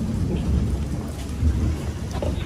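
Heavy rain pours steadily on a village, with thunder rumbling deep underneath in a dense, loud, continuous wash and no voices.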